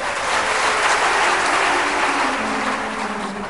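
Audience clapping during a religious discourse, a dense, loud wash of many hands applauding steadily throughout before easing slightly at the end.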